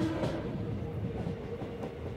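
Passenger train running on an EMU track near Perambur station out of Chennai Central, a steady close rumble with rhythmic clickety-clack of wheels over rail joints, without talk.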